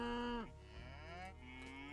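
Cows low in a video game, a Wrath of the Gods tournament match: two fairly quiet moos follow one another, the first deeper and falling off at its end, the second shorter and rising, with no voices over them.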